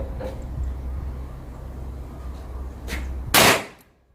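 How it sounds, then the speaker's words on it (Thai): A single sharp gunshot from a Smith & Wesson 686-6 revolver firing .357 Magnum JHP at a steel plate cracks loudly near the end, ringing briefly with a faint metallic tail, after a few quieter clicks over low background hum. "ผมขออนุญาตยิงแบบซิงเกิลนะครับ"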